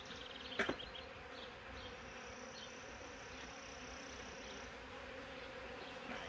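Honey bees buzz steadily at an open beehive during work with a honey super and queen excluder, a faint continuous drone with a brief knock near the start.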